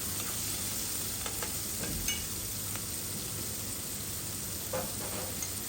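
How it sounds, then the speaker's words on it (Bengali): Meat pieces stirred and frying in hot oil for restaurant-style mixed chow mein, a steady close sizzle with occasional scraping stir clicks throughout, no talking. "মাংসের টুকরাগুলো দিয়ে তেলের মধ্যে ভালোভাবে নাড়াচাড়া করে নেব, এতে মাংসটা ভালোভাবে ফ্রাই হয়ে যাবে"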